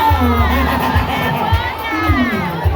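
An audience at a primary school event in Ituri cheers and shouts, with children's voices prominent and loud, sustained crowd noise rising and falling without a break.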